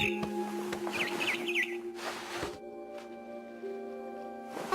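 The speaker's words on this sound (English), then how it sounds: "Then I heard chirping outside my window. It was a barn swallow going back to her nest." Short bursts of barn swallow chirping in What Remains of Edith Finch, a quick run of twittering calls over a steady game ambience with a few soft rustles and thumps, and no voices.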